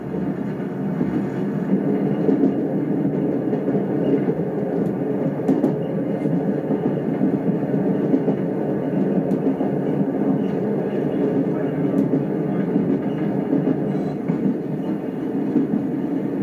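A 1976 train running on the Falmouth branch line in Cornwall, a continuous steady interior rumble of wheels on rails with faint clicks, unbroken and without voices.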